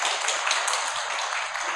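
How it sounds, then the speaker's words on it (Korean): A church congregation at a Christmas service gives a brief burst of steady applause for the teachers, dense clapping from many hands. "이 선생님들 수고에 큰 박수로 수고하셨다고 큰 박수 한번 돌려주시죠."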